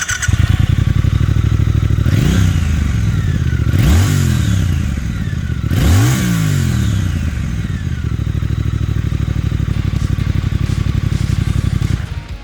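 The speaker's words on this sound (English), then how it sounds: "We like the sound of the 2022 Triumph Speed Twin 1200 twin exhaust." A 2022 Triumph Speed Twin 1200 motorcycle with stock twin exhaust, idling with a steady loud burble, then three sharp throttle blips that rise and fall quickly, before settling back to a rapid idle.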